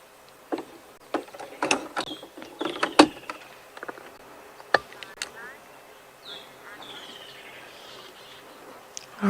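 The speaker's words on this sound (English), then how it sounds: "There are so many birds calling." Many birds call at sunset on an African safari near a lioness, with scattered chirps, clicks and whistled notes, some close and some distant, over a quiet background.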